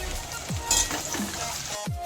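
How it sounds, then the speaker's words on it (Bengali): Gram-flour-coated tinda pieces fry in hot oil over low to medium heat, giving a steady, close sizzle broken by a few stirring scrapes. "গরম থেকে টিন্ডার টুকরোগুলো ভেজে নিচ্ছি।"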